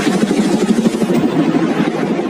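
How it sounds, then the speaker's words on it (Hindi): A helicopter flying over the sea near a private island, a loud, steady whirring drone with rapid pulsing rotor beats that holds constant throughout, with no voices. "ये हेलीकॉप्टर हमारे बॉयज को ऊपर हवा में ले जाएगा"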